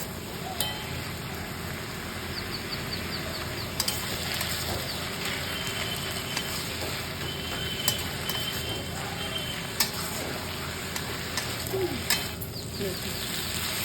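A mix of fourteen kinds of greens, including Malabar spinach, fries in a pan with potato peel and radish, giving a steady soft sizzle broken by occasional clinks of stirring, fairly close and without talk.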